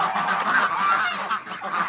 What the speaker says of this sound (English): we'll go let the little ducklings out and go check out the ones that were born yesterday